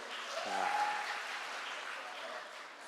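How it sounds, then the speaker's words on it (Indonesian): Applause from the audience at a church youth Christmas service at HKBP Kebayoran Lama fills the space as a faint, steady, distant wash of clapping lasting a few seconds. "Tepuk tangan dulu untuk kita semua."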